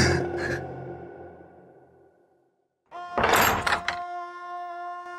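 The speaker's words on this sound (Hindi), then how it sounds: "अब तो दरवाजा बंद कर दीजिए।" A door is pushed shut in a domestic drama scene, a short, dense knock-and-scrape burst that stands out sharply over soft background music after a brief hush.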